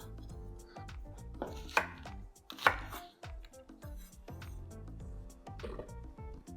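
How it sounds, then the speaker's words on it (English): Knife chopping the ends off fresh bhindi (okra) on a board: a dozen or so crisp, close cuts in an uneven rhythm, two sharper thuds standing out, with no talk. "Let's cut and prepare our bhindi. So just going to take the ends off."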